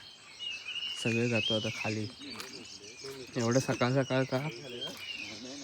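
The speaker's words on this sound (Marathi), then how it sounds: "चला उजाळलाय पक्ष्यांचा आवाज येतोय" Birds chirp and tweet faintly at dawn in the background beside a river in Konkan, while people talk over them in the foreground.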